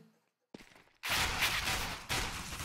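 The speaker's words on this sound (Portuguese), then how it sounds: "mas toma tiro na cara do Rage, já tira duas armas do CLG" Gunfire in a Counter-Strike competitive match, a quiet start followed by a sudden loud burst of rapid shots that continues with a second sharp onset, dense and close.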